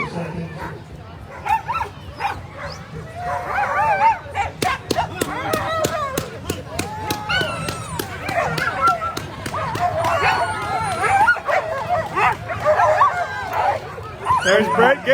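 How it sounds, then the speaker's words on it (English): Excited sled dogs at the start of an open class world championship race on 4th Avenue bark and yip in loud, overlapping bursts while people talk and a crowd murmurs nearby. "Look at these happy dogs."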